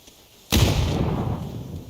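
A single loud grenade blast in a competitive video game match, thrown through smoke. It bursts suddenly after a quiet moment and then rumbles and fades over the following second.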